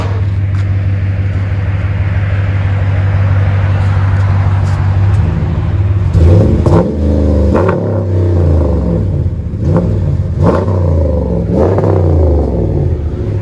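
A RAM 1500 5.7-litre V8 pickup with an aftermarket cat-back exhaust rumbles loudly at a low idle, then is revved several times in quick blips that rise and fall.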